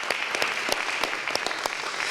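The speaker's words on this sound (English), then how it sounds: "a round of applause for Joanne and all that she does for this program" Brief, moderate applause from a small press conference audience for a community litter-fighting grant program, scattered individual claps audible within the patter.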